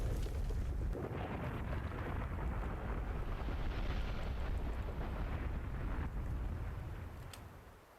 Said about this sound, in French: vous avez entendu une double explosion